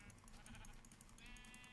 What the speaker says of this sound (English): Ooh, there's a gray sheep too.